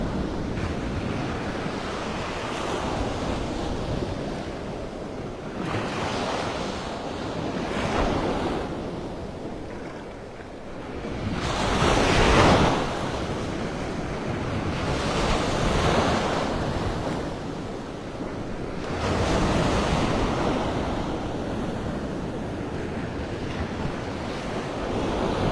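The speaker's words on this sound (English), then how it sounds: "See how the waves are chipping away the beach all along here." Ocean surf rolls in and breaks along Vanderbilt Beach in North Naples, Florida, under cloudy skies, each wave surging and receding in a steady rhythm every few seconds, with wind buffeting the microphone and no talking.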